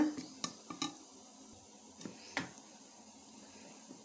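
Curd being stirred into coconut milk batter for idli, heard as faint, sparse clinks and scrapes of a utensil against a bowl, a few sharper taps among quiet mixing, with no voices.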